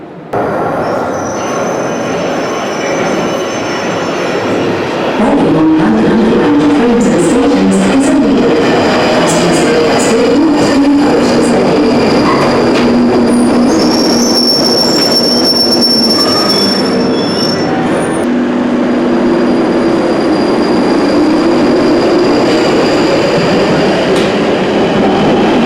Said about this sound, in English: catch a tube train.